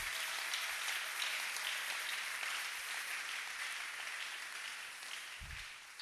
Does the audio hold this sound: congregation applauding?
yes